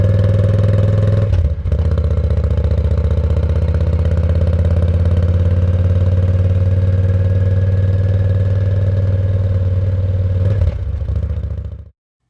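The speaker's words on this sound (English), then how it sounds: "Factory exhaust, slow on the road" A 2013 Yamaha V Star 950 motorcycle with its factory exhaust rides slowly along a road, giving a steady, loud low engine drone that holds for about ten seconds with a brief dip near the start before cutting off.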